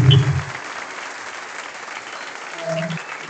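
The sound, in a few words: applause at a closing ceremony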